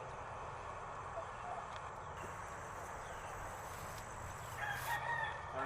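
A yellow buff Dominecker cross rooster crows once toward the end, fairly distant, over a steady outdoor background with a person talking nearby.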